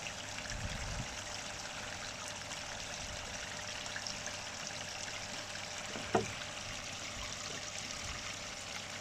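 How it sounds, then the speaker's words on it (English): Water from three small garden railway waterfalls trickles steadily into a little pond, a soft continuous splashing with one brief knock partway through. "So we've got 3 waterfalls, they're all working fine now."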